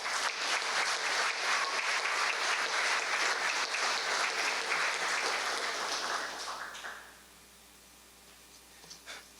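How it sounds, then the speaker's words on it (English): An audience at an awards ceremony applauds steadily for several seconds, a dense wash of clapping that fades out abruptly, leaving quiet room tone with faint rustles. "We can clap for that, that's okay."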